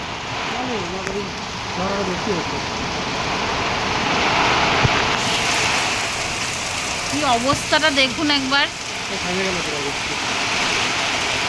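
Heavy storm rain pours down hard and steadily, a dense close hiss, while people talk over it in brief exchanges.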